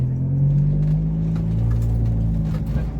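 A car engine rumbles loud and close in a deep, steady drone as it pulls away, with no voices over it.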